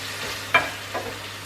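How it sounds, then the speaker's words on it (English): Bolognese sauce is stirred in a pan with a low steady sizzle, marked by a single clear scrape of the utensil and a softer second one. "Give it a good mix, folks."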